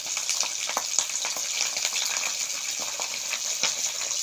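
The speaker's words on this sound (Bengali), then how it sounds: "কালো জিরে ফোড়ন, পেঁয়াজ ফোড়ন দেব।" Nigella seeds and onion tempering in hot oil, the base for a pabda fish jhal, make a constant bright hiss full of tiny crackles and pops, close and even, with no voices.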